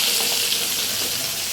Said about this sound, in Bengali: এখন পমফ্রেট ভাজা হচ্ছে